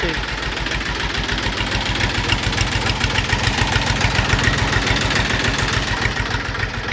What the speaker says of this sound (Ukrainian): Дискую трактором Кентавр 44.